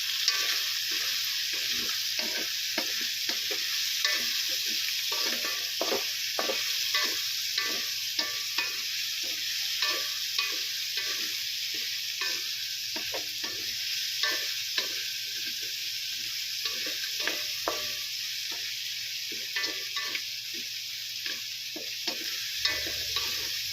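Onions frying in a pan hiss steadily while being stirred, with a regular run of soft scraping strokes throughout, close and fairly quiet.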